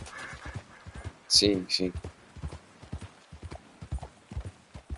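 Horse hooves clop in a regular walking rhythm in Red Dead Redemption 2, heard beneath Portuguese conversation between two voices.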